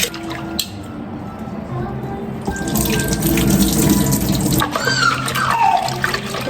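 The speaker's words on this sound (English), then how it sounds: "And then you keep washing until the water turns clear." Tap water runs into a kitchen sink while rice is rinsed for an Indian dish, a steady close rush with splashing and shifting flow, brief drips and handling clatter, and a voice talking faintly at moments.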